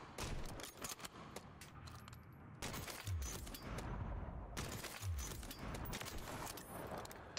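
Kar98K sniper rifle fired in Modern Warfare 3 during a match, with several sharp loud shot bursts and bolt-action clicks amid busy game noise, no talk.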